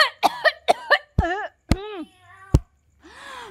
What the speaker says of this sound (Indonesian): Kucingnya batuk Mas Edo.